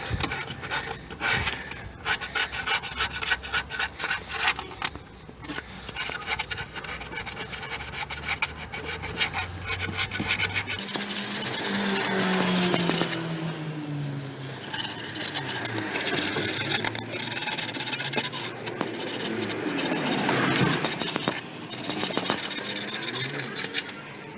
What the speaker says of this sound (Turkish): şu ağzı zımparayalım.